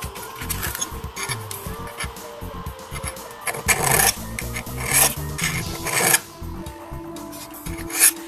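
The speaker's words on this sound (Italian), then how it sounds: "Adesso devo dargli la forma bene con la lima." Steel knife blade being shaped with a metal file, first a square file, steady rasping strokes scraping close and fairly loud, continuous over several seconds with periodic louder pushes, no voices.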